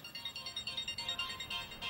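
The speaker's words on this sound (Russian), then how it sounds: "Снова звонит." A telephone rings in a fast, steady pulsing electronic pattern, faint and continuous with no voices over it.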